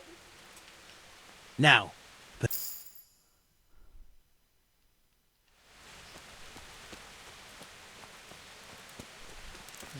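Steady rain patters in the medieval video game Kingdom Come Deliverance, a soft broadband hiss that fills the background after a brief spoken word, a couple of sharp clinks and a short near-silent gap.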